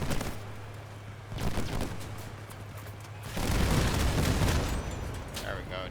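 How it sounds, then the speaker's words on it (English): Enemy vehicle cannons firing during an invasion battle in the vehicle-combat game Crossout, two heavy booming bursts a couple of seconds apart, the second a longer rolling blast over a steady engine hum. "He's preparing to shoot me though."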